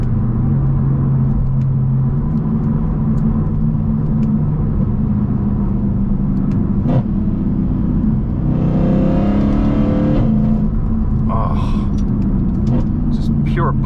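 A Mercedes-AMG C63 while driving, with a steady deep exhaust drone and engine rumble inside the cabin. A short rise near the middle suggests a downshift or rev, and a voice talks over it throughout.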